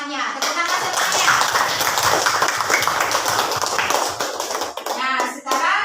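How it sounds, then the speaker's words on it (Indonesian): Classroom students applaud together, a dense burst of clapping that runs almost continuously for several seconds, loud and close, with children's voices mixed in and tapering off at the end. "Ya, beri aplaus temannya. Tepuk tangan semuanya."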